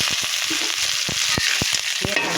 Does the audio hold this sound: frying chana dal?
yes